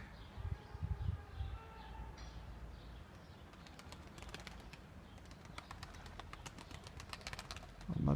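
Tumbler pigeons just released at a loft coo and flutter faintly, with soft wing flaps and scattered chirps over a low outdoor background and a few louder bursts near the start.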